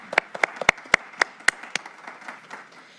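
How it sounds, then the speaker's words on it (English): Scattered applause from a small audience at a panel discussion on voting, a few distinct claps standing out and then thinning into a softer patter that fades over about three seconds. "Let's give them another round of applause."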